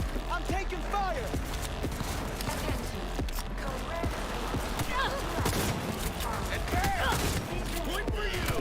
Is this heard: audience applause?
no